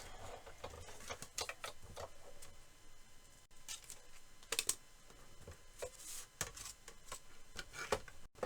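Cardstock is cranked through a die-cutting machine, giving a run of sharp, irregular clicks and rattling ticks close by with no talk.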